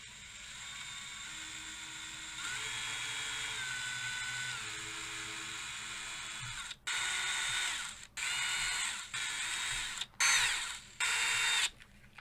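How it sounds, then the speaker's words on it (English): A power drill whines steadily while drilling holes in a kit guitar headstock, its pitch rising as it bites, then several short bursts of drilling follow, close and loud with no talking. "And we're going to drill these out."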